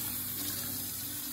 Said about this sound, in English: I gotta wash my hands. Let me wash my hands and then we'll get back to this.